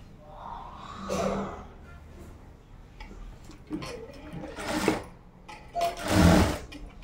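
A sewing machine runs in several short bursts while stitching a blouse, its whirring rising and falling with pauses between runs, close and fairly loud.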